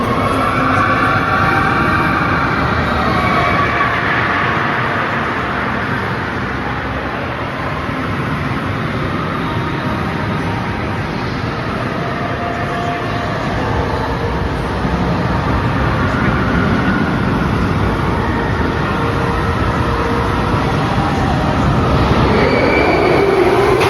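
Nickelodeon Slime Street, a roller coaster at American Dream, runs as a loud continuous rumble of wheels on track with rattling and squealing throughout, close and steady, with no voices.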